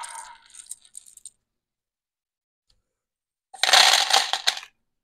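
Small plastic Color Computer 2 keyboard parts are set down beside rubber domes, giving a short burst of light clicks, a quiet pause, then a louder rattling clatter close by.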